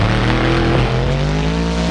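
The monster truck Son of Grim revs loudly at a freestyle tournament event in Jacksonville, its engine roaring continuously with a rising, shifting pitch, close and dominant throughout.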